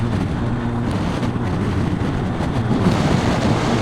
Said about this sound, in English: Right, here comes the wind.